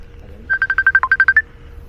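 A phone rings for an incoming call: a short burst of about ten rapid electronic beeps in a quick even pulse, close and clear, lasting under a second against a quiet background.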